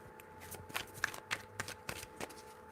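Tarot cards are handled and shuffled quietly: a string of soft, irregular taps and light slaps at low volume in a still room.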